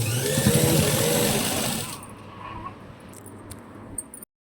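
A sewing machine stitches a boat neck blouse in a fast, steady whir for about two seconds, then stops, leaving only faint room noise and a few small clicks.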